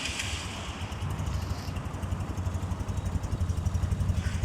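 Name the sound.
Toki Cycle engine running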